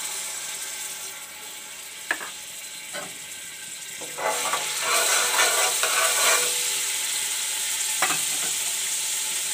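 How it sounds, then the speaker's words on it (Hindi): Garlic ginger paste frying in oil in a cooking pot gives a steady hiss that swells into a louder sizzle midway, with a few clinking stirs and no talk. "उसके अंदर मैं ये लहसुन अदरक का पेस्ट डालूँगी।"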